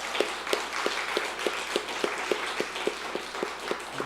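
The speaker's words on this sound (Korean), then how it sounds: "우리 박수로 한번 격려 한번 하도록 하겠습니다" Congregation applauding during a Sunday church service, a steady, fairly even clapping with a regular beat inside a reverberant hall, with no talk over it.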